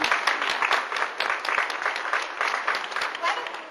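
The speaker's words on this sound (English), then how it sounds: "Why don't we get you to hold your applause?" Applause from an audience at a Glendale College ceremony, dense steady clapping from many hands sustained throughout, fairly close and even in loudness, with a voice faintly present.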